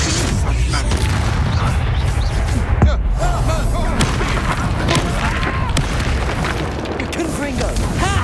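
Spell explosions from Bombarda and Confringo in Hogwarts Legacy, repeated deep booms and bursts over a dense rumbling battle, with voices shouting and talking throughout.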